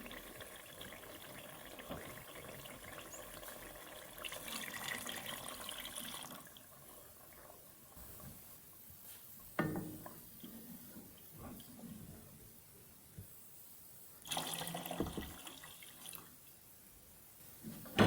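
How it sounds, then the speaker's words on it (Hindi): Two cups of water splash and pour in uneven bursts into a metal cooking pot of beef tahari, with quieter trickling between the louder gushes. "हम इसमें डाल देंगे 2 कप पानी"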